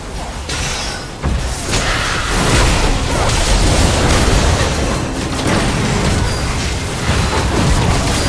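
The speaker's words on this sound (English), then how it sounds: "Blue team's turret has been destroyed." A turret being destroyed in League of Legends, a loud sustained rumble of booms and crumbling debris with whooshing bursts that carries on for several seconds, with no talk over it.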